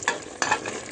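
Şevketi bostan sautés in a pan, a brief, close sizzle with two quick stirring scrapes and no talking.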